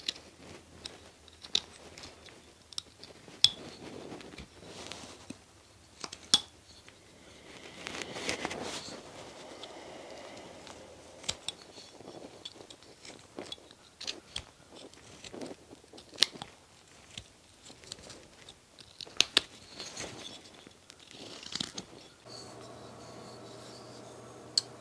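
A knife carves a small wooden Cupid figure, giving a long run of close, quiet scraping and shaving strokes with sharp irregular clicks and brief gaps, and no talking.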